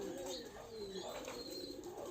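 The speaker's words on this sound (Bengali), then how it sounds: "খুব সুন্দর এটা কবুতর" Soft, low cooing from young Giribaz and Kagji pigeons kept in a loft, a few close-up coos under faint bird chirps and a little wing rustle, with no talk.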